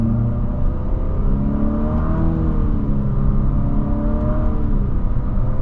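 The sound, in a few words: 2024 Infiniti QX50 CVT engine revving through simulated paddle-shift gears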